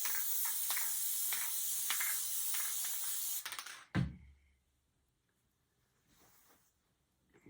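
Spray adhesive hissing onto quilt layers in a steady, close, continuous spray for several seconds, then cutting off abruptly with a soft thump, followed by quiet handling.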